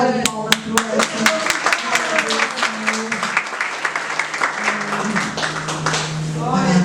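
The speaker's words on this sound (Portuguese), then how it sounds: "dá uma salva de palmas pro Edson" A church congregation applauds with crisp, distinct claps over sustained voices and a held tone, the clapping thinning and fading into murmured speech and sound.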